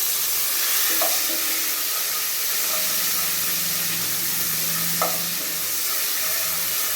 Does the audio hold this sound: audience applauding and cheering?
no